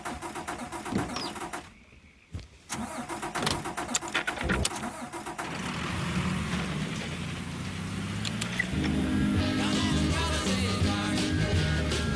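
A car engine in the Mafia 3 video game cranks and catches after a brief pause, then settles into a steady, loud idle rumble that continues to the end.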